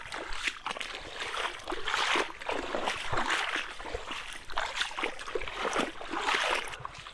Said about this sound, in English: We're hiking through the water ourselves.